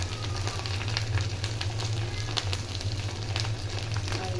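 Salt, turmeric and other spices fry in a hot pan for a rohu fish curry with pointed gourd, giving a continuous close sizzle over a low steady hum, with scattered crackles throughout.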